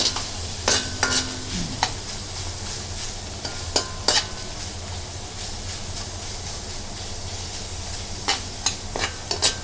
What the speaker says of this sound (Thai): แล้วก็ใส่หมูสับค่ะ ผัดให้หอมเลยนะคะ